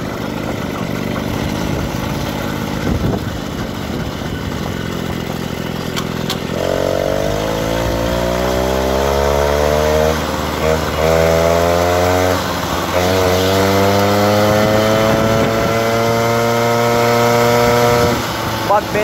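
A Peugeot 103 moped engine buzzes loudly while being ridden. Its high, raspy two-stroke whine holds steady at first, then climbs and wavers as the throttle opens through the rest of the ride.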